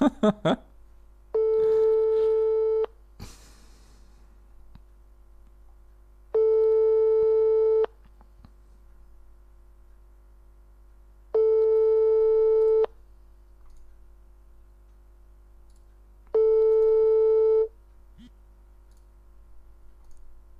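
A French telephone busy signal repeats four times as evenly spaced loud steady tones with silent gaps between, after a few clicks at the start, with faint voices in the background.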